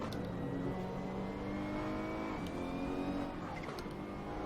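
Ferrari 488 GT3 race car engine in Assetto Corsa, a loud steady high-revving drone with rising and falling gear pitch, held close throughout as the car chases another on track.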